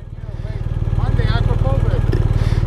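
A 2024 BMW R1250RT motorcycle engine fires up and settles into a steady, loud idle with an even pulsing throb, while someone talks over it.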